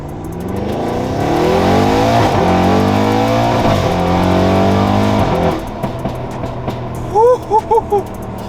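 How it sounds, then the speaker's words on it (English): An Audi RS6 with a new exhaust revs hard through rising, falling sweeps with a loud, throaty exhaust, then idles and blips a few short revs close by. "this exhaust sounds so good."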